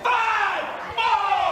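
A snooker crowd at a shootout event chants out the shot clock countdown together, loud massed voices in two sustained bursts with a brief dip between them.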